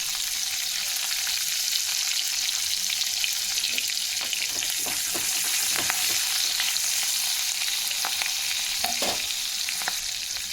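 Black cumin seeds and slit green chillies fry in oil left over from lightly fried prawns, a steady loud sizzle with occasional spatters and utensil clinks, with no talking.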